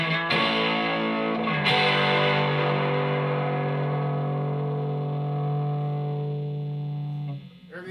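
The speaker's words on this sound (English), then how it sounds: "Real nice warm overdrive, a lot of decent amount of bottom end" Electric guitar overdrive through a modded Fender Blues Deluxe drive channel, drive set low: two struck chords ring out warm and distorted with a full low end, then sustain and slowly fade.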